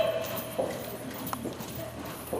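Hooves of two horses clip-clopping at a flat walk in a steady four-beat rhythm, moderately close over background noise.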